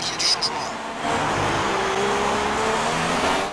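Formula 1 race car engines in the F1 2016 racing game, a steady, sustained engine drone after a brief quieter start, with a commentator's voice over it.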